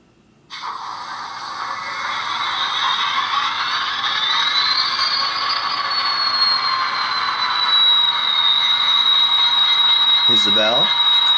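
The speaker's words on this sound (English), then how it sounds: "Now why don't we put the prime mover on and listen to this thing." A Rapido HO-scale Metra F59PH model locomotive's sound system kicks in with its prime mover, a steady mechanical diesel drone that swells slightly in pitch and holds loud and close for about ten seconds, with a brief voice near the end.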